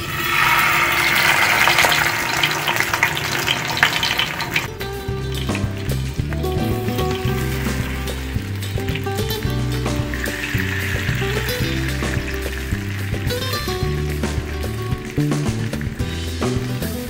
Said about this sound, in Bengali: এবার মশলা মাখানো মাছগুলোকে আমি প্যানে তেলের মধ্যে দিয়ে দিচ্ছি।